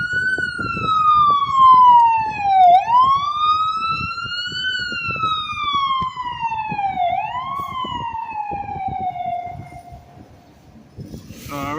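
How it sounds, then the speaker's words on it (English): An ambulance siren wails loud and close on a city street, rising and falling in long sweeping cycles over steady rumbling traffic as it passes, then fades. "I'm going to let this ambulance pass."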